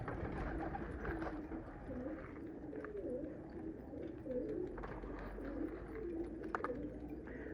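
Pigeons coo in a steady, low murmur outdoors, several birds overlapping continuously with faint chirps and a soft background rumble throughout.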